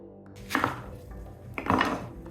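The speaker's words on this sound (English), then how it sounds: "slice up 4 inches of ginger, and you can leave the skin on" A knife slices through unpeeled ginger on a board, two distinct cutting strokes with soft thuds, close and quiet.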